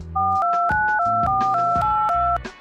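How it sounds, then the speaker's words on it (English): A rapid sequence of dual-tone telephone dialing beeps, about eight steady tones in a row, clear and close with no voices. "This is the sound of a telephone communicating"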